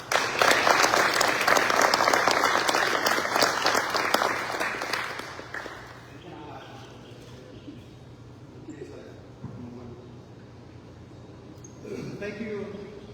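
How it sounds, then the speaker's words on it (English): An audience at a retirement ceremony applauds loudly and steadily for about five seconds, then the clapping fades out and a voice speaks quietly over the room. "Can we get a round of applause?"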